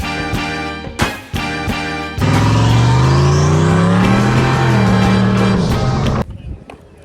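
A Ford SN95 Mustang engine runs close by, with a few sharp revving blips before settling into a loud, sustained rumbling drone that rises and falls slightly in pitch and then cuts off near the end.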